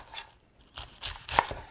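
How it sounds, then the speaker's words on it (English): A knife chopping cabbage on a cutting board for lentil soup, with four or five crisp, uneven cuts close by, each a short crunchy snap, and no speech. "And cut it in half, just chopping it."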